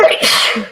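A single sharp sneeze bursts out close by, right after a brief spoken word.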